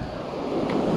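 Ocean waves rolling in at Sebastian Inlet, a steady broadband wash of surf that swells slightly louder toward the end, with wind buffeting the microphone throughout.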